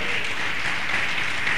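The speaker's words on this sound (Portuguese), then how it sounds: "Aplauda Deus nessa hora, porque Ele é fiel." A church congregation claps together during a service, a steady, dense wash of hand claps that holds evenly for the whole short stretch without pause.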